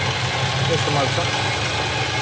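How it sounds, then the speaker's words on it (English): A Boxford BUD lathe's 3-phase main motor runs steadily, driving the second spindle with a low, even hum and slight vibration. "The main motor, which is a 3-phase motor, is running this drive onto the second spindle in."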